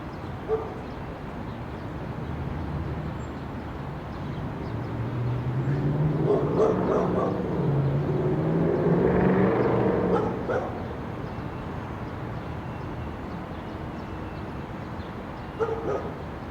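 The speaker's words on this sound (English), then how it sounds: "Listen for the sound of a dog barking in the distance." A dog barks and yips a few times at a distance, faint against a hushed outdoor background.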